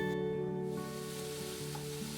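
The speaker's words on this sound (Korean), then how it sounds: "밑간을 해둔 고기를 먼저 달달달 볶다가 채 썬 무를 넣고 함께 볶아주는데요." Seasoned pork stir-frying in a pan, a steady close sizzle and crackle of meat hitting hot oil, continuous and fairly loud with no voices over it.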